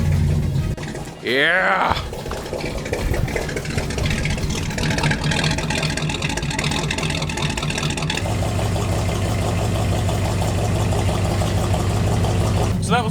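A 1950 Ford car engine cranks and catches, then settles into a loud steady idle heard close, with a short excited shout near the start.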